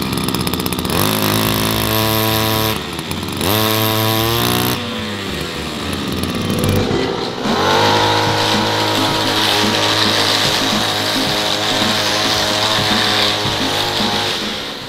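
A small petrol lawn mower engine, just repaired, cranks and sputters twice, then catches and runs loudly close by, revving high with a rough, buzzing two-stroke drone that holds steady to the end.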